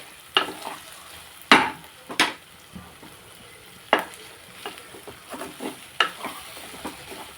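Mango fish curry being stirred in a pan, giving a run of close scraping and clattering strokes at an uneven pace, with a soft sizzle beneath and no talking.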